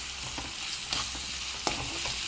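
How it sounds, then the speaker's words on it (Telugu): Mint paste for paneer pulao fries in oil in a pan, with a steady soft sizzle broken by a few sharp scraping stirs close by. "ఈ పేస్ట్ వేసేసుకున్నాక పేస్ట్ పచ్చిదనం పోయే వరకు మనమైతే ఏగనివ్వాలన్నమాట"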